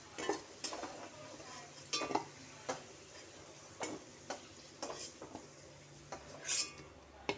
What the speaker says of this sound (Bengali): আলু ভাজা হয়ে গেছে, আলু ভাজাগুলি তুলে নিচ্ছি।